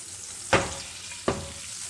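Butter melts in a hot frying pan with a soft, continuous sizzle, broken by two sharp spattering crackles about a second apart, close and fairly quiet.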